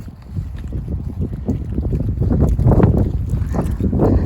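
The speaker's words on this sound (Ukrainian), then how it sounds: "Вітер такий." Gusty wind buffeting a microphone outdoors, a low rumbling roar that swells stronger toward the end, with no talking.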